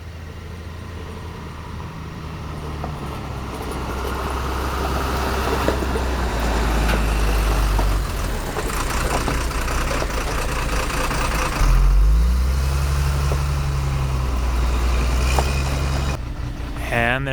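A large tow truck rig approaches at night on a wilderness road, its engine a steady low rumble that swells as it nears, with vehicle noise continuous throughout and a person talking over it.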